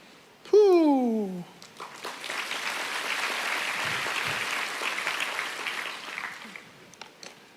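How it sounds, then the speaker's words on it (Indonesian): A church congregation applauds, a broad wash of clapping that rises quickly, holds steady for several seconds and fades out. A voice with a falling, wavering pitch sounds just before it begins. "saya tidak akan komentari tepuk tangan Anda"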